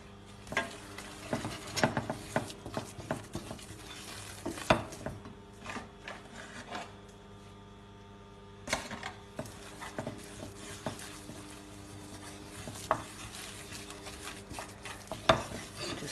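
Ingredients for a seafood pie are stirred and mixed in a pan with a wooden utensil, giving irregular scraping and knocking strokes over a faint low sizzle, with a quieter lull midway.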